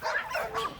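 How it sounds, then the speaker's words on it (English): Several dogs bark and yip together in a short, overlapping burst, moderately loud and somewhat distant. "Anytime I let one dog out, the rest of them want to come out and they get loud."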